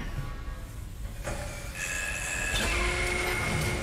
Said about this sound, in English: Tram car's out of the way